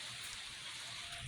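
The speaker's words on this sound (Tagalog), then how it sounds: "umuulan na rito." Rain falls softly on a surface in a rural Philippine setting, a faint, steady patter with scattered drops and no voices.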